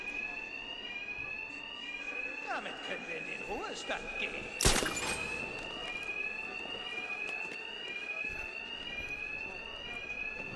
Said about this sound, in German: Diese Schläger können wegen des Alarms nichts hören, genau wie die anderen.